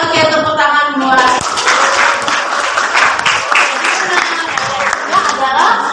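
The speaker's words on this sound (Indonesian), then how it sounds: "tepuk tangan buat." Students clapping in a classroom, a burst of brisk, loud, close applause that starts after a short spoken phrase and keeps up steadily, with voices mixed in.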